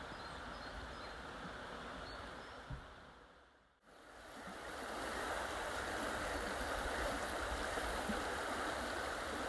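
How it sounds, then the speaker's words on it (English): River water runs steadily under Barden Bridge, a constant soft rushing flow that dips briefly near the middle before returning fuller and steady, with no voices. "enjoy the sound of the water running under the bridge"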